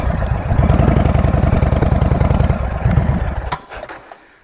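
A motorcycle engine pulses under throttle while the rider climbs a hill, a loud close chugging that turns jerky and uneven as the throttle eases off, then drops away toward the end.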